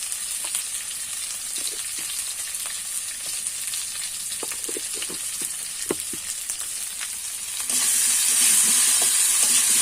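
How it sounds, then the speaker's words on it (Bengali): Rohu fish pieces coated in salt and turmeric fry in a hot pan, a steady close sizzle with scattered pops and spoon taps, swelling into a louder, brighter hiss near the end. "এখন আমি এটাকে ভেজে নেব। বেশি ভাজবো না, ওই সামান্য 1 থেকে 2 মিনিট আমি কড়া আছে ভেজে নেব।"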